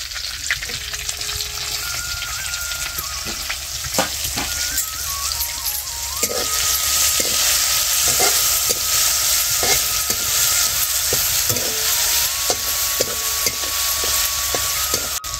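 Curry leaves and thecha sizzle loudly and steadily in hot oil in a kadhai, with the crackle growing stronger partway through and scattered clicks and scrapes as the mix is stirred.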